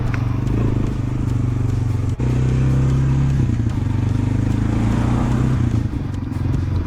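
A Honda 300 4x4 ATV engine running close by, a loud, steady low drone with a brief dip and slight changes in pitch as it rides, accompanied by rattling and crunching from the ground.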